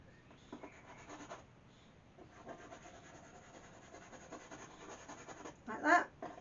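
A palette knife dragging grey-mixed paint across a canvas in short, quiet scraping strokes, with a few brief rubs and a louder scrape near the end.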